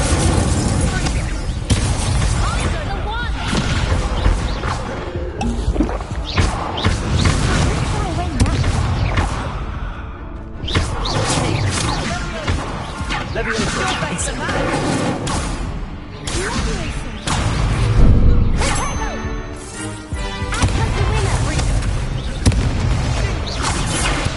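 Incendio fire spell cast during Hogwarts Legacy combat: repeated whooshing blasts and booming impacts amid dense game effects and music, with character voices speaking between bursts.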